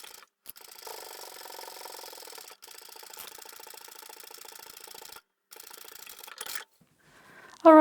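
A sewing machine stitches a fabric phone case in quick, steady mechanical runs, whirring in several bursts separated by short pauses, close and alone with no talking.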